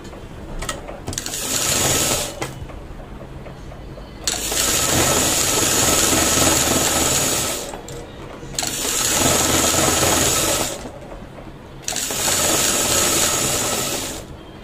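Sewing machine stitching blouse pieces together, joining the sleeve edge, running in three long steady bursts of whirring motor sound separated by short pauses.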